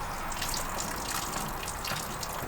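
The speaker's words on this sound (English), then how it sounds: "So, water runs out." Water pours out of an RV water heater tank after the drain plug is pulled, giving a steady, continuous rushing and splashing with no breaks and no voices.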